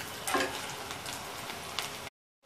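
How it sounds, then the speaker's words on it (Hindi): Onions sizzle in a pan with an even, moderate hiss, broken by a few brief stirring scrapes, before the sound cuts out at the end. "प्याज पक रहा है,"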